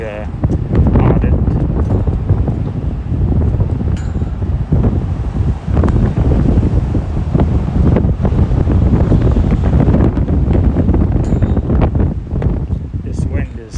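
Strong gusting wind buffets the microphone outdoors in Cold Lake, Alberta, producing loud, continuous low rumbling and blustering throughout, with a voice faintly present beneath it.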